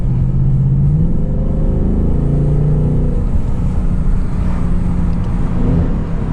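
A 2024 Ford Mustang GT V8 rumbles deep and loud from inside the car while driving, with a low engine drone that rises and falls slightly over steady road noise.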